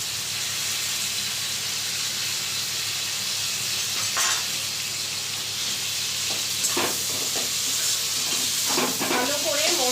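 Taro leaves hit a hot pan of spices with a loud, steady sizzle and frying hiss, broken by a few sharper crackles and stirring scrapes near the end.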